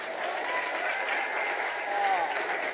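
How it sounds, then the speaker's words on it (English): Audience at a youth council event in Ryde applauds steadily, a dense, even round of clapping from a crowd with faint voices mixed in. "Let's give him a round of applause again."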